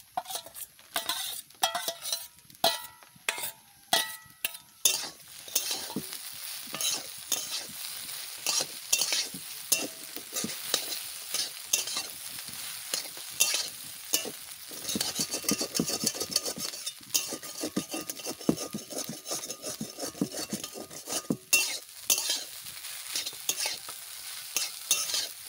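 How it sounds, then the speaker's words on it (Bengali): Carrot upma vegetables stirring and frying in a pan: a sustained sizzle with repeated scraping and clinking of a spoon against metal, steady and close, with no talking. "সবজিটা ভাজা করছি, সেই সবজিটা দিয়ে দেবো।"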